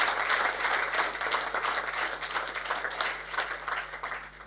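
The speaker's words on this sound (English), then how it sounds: "Let's give a round of applause for our presenter." An audience at a conference talk applauds a presenter, with steady crowd clapping that continues throughout and no one speaking over it.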